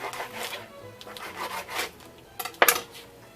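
A knife slices through radish greens on a cutting board with soft rubbing, scraping strokes and a sharper knock near the end, close and fairly quiet.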